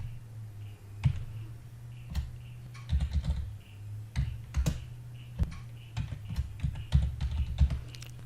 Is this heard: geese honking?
no